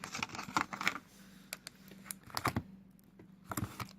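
Soft green peppermint fluffy slime gives close, faint clicks and crackles in irregular bursts as it is squeezed and played with by hand, with quiet gaps between.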